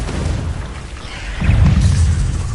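A Confringo fire spell bursts into an explosion during a Hogwarts Legacy duel, a low rumbling boom swelling midway and rolling on to the end over a steady bed of game noise.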